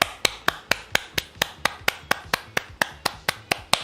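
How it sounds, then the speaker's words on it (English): Steady, evenly spaced claps, roughly four per second, crack out crisply and close with no voices over them. "please stand up real quick and give you guys a real good clap"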